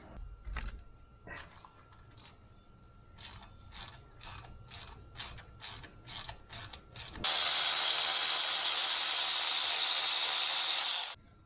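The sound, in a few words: flex-head ratchet working on BMW 335i N54 oil filter housing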